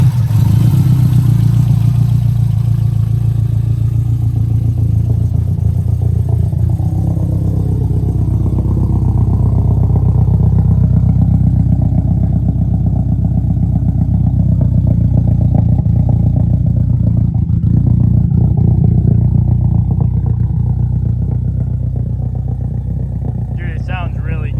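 A 1003-horsepower Subaru WRX STI build idles with a loud, steady low rumble and uneven throttle blips that rise and fall throughout, heard close up in a garage-like setting with voices talking over it.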